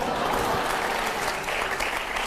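Studio audience applause on a Hindi TV debate show, a steady wash of clapping that stays loud and dense throughout, with no voices on top.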